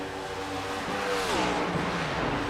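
Race cars in the iRacing sim at Indianapolis during an AREA Cup Series race, one car coasting into turn 1: a steady engine roar with a pitch that slides downward, amid a dense wash of other engines and tire noise.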